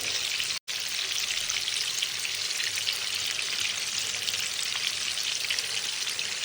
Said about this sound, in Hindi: झींगा कितना अच्छा फ्राई हो रहा है